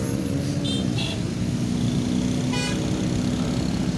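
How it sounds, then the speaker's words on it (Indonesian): An ANS bus and other motor traffic pass through a busy Palembang intersection on Jalan Soekarno Hatta, a steady engine rumble with short car horn toots sounding over the constant roadway noise. "Baru ANS saja yang baru melintas."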